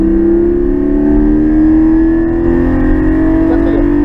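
A Porsche Cayman GT4 accelerates on a race track, its engine note climbing steadily in pitch, loud and close as if heard from inside the car.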